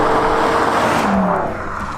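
A Pontiac Trans Am F-body accelerates hard around a track, a loud, close engine roar with broad rushing noise and a low droning note that fades slightly near the end, with no talk.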